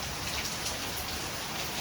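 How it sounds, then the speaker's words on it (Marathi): Steady evening rain pours outside a village home in Konkan, a dense, even hiss of drops on surfaces with no voices, constant and fairly close throughout. "संध्याकाळचे आणि पाऊस पडतोय बाहेर बघा"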